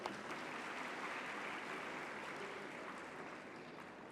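Conference audience applauding guests on the dais at a national gathering of chartered accountancy students, a dense, even roar of clapping that stays level throughout, fairly faint and distant.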